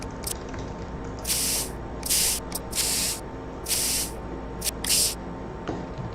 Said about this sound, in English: So we are just spraying it with water to clean everything up.